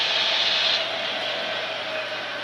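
A scenic railway train engine at the Branson Scenic Railway rumbles past as a steady, broad roar, loudest at first and then easing slightly while it keeps going, with no voices over it.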